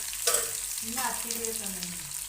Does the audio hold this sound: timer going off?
no